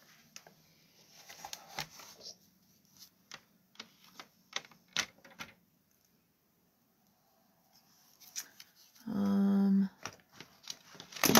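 Vellum paper being trimmed, a sparse series of sharp, close clicks and snips scattered across several seconds, followed by a short buzzing whir and more ticks near the end.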